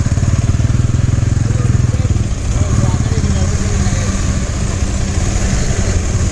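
A Bajaj Pulsar motorcycle engine chugs loud and close in a steady low throb during a riding lesson near Nandi Hills, the rhythm loosening slightly partway through as the revs shift.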